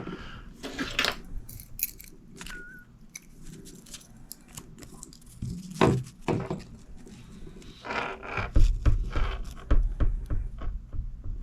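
Small scissors trim a feather for a painted Christmas ornament, giving scattered quiet snips and rustles with a few sharper clicks, close and soft.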